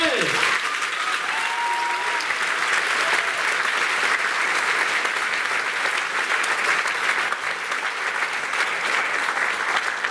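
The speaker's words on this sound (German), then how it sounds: "Bis dahin ein reißenden Applaus" At a school graduating-class variety show, an audience bursts into loud, sustained applause that stays even and full throughout, with a brief voice at the start and possible whistles or cheers mixed in.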